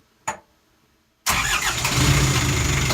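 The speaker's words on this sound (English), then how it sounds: "Started the engine of the boat off the house bank." A boat engine is started off the house bank: a brief click, a second of silence, then the engine catches abruptly and settles into a loud, steady running rumble.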